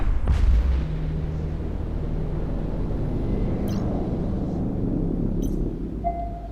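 The pirate ship Oracle blows up in the space game EVE Echoes with a heavy, close boom, followed by a long, low rumbling roar that fades slowly with a few faint electronic blips.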